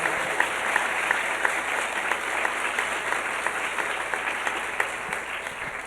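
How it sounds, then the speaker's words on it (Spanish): Applause from a church congregation during a sermon, dense steady clapping from many hands filling the room, sustained without letting up. "Un fuerte aplauso al Señor."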